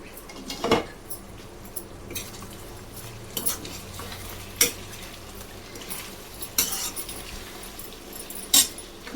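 Chicken pieces fry softly in a pan on low heat, giving a low sizzle under repeated clinks and scrapes of a metal spoon against the pan, with no talking.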